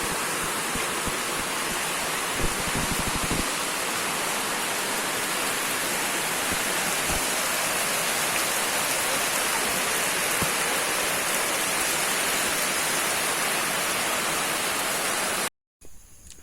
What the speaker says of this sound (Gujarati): વરસાદ ચાલુ થઈ ગયો છે પાછો ડાઠામાં